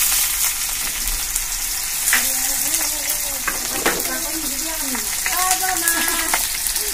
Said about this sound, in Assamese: পিঁয়াজখিনি অকণমান ব্ৰাউন কালাৰ এটা অহালৈকে এইখিনি ধুনীয়াকৈ ভাজি ল'ম মই